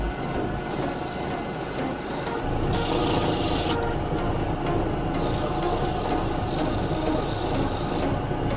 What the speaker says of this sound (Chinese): 匠人将选用多套不同力度的打磨耗材，循序渐进修整玉石表面，细致消除雕刻痕迹